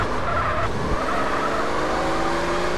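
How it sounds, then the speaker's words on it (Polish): Car in GTA San Andreas sliding through a handbrake turn, a steady loud engine drone with tire skid noise running throughout, no talk. "Podetnięcie samochodu na ręcznym."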